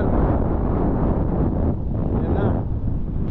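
Strong wind buffets the microphone at a seaport in Claver, Surigao del Norte, a loud continuous low rumble that barely lets up.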